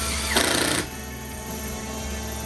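A drill bores into a wooden farmhouse table top in one short, loud burst, then drops away to a steady background hum.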